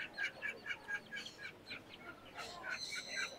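A Penny White Face chicken clucks in a quick repeated series of short calls, faint and fairly distant, over a quiet outdoor background.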